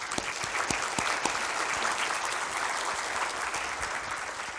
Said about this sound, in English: just a little round of applause for all their hard work.